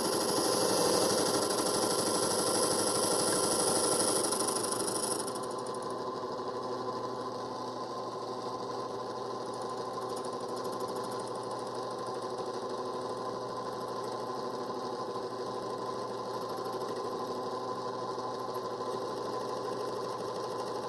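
A locksmith's key cutting machine running as it cuts a basic key, a steady mechanical whir that is louder for the first five seconds, then settles to a lower, even hum for the rest.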